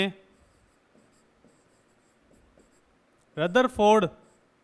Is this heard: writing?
yes